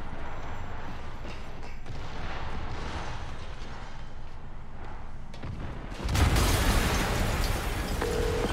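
Explosion in Spider-Man Remastered, a sudden loud booming blast that bursts out of a steady rumbling game soundscape and lingers as a heavy roar.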